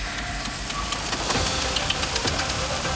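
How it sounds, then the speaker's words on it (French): A vehicle engine, fitted with a new battery, running steadily after starting, with a rough knocking idle and a continuous mid-range hum close by, no talk. "Le moteur fonctionne, excellent."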